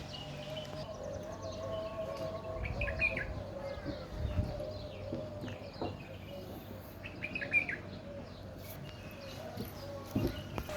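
Birds at Al Ain Zoo chirp and call in scattered bursts at a moderate distance, faint against outdoor ambience with occasional thumps and brief background voices.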